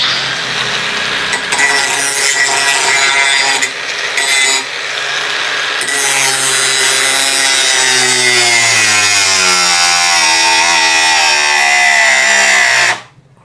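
Dongcheng DCSM04 angle grinder whining at high speed, its pitch dropping steadily as the disc is forced to a stop before the sound cuts out abruptly near the end.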